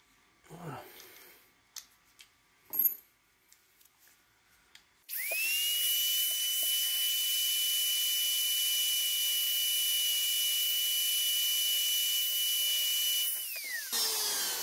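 A small high-speed drill bores into a gun sight, running as a steady, loud, high whine for about nine seconds, after a few scattered clicks and handling knocks, then winding down.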